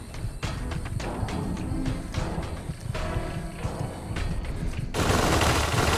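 Rapid gunfire rattles through a scene in the video game Dust, with dense, continuous bursts of shots at close range, then ending in a sudden loud wash of noise.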